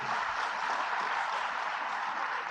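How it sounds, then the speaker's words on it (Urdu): Steady applause from an audience at a Jamaat-e-Islami ceremony in Lahore, dense continuous clapping filling the whole stretch with no pause. "تالی آپ بھی بجائیے نا، آپ کو کیا پریشانی؟"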